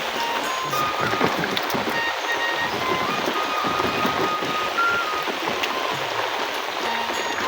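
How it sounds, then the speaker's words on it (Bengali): Heavy rain falls at a riverside on the Gomti river in Cumilla, a dense, steady hiss of drops striking water and surfaces that continues without a break throughout. "বৃষ্টি"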